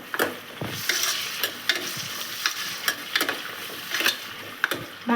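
Tomato frying in oil in a pan for chicken biryani, a steady close sizzle broken by repeated scraping stirs from a spoon, with no talking.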